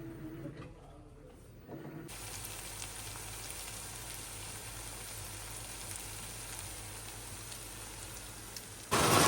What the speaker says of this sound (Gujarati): ક્યારનો વરસાદ ચાલુ થયો છે પાછો. બહુ વરસાદ આવે છે.